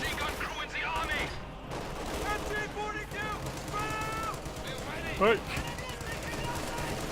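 MG42 machine gun fire bursts in Company of Heroes 2 amid a busy battlefield of rattling gunfire and distant explosions, heard under steady commentary from a caster.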